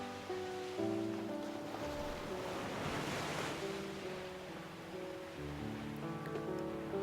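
Steady ocean surf washes continuously, with a wave swelling and breaking midway, and faint wind in the background.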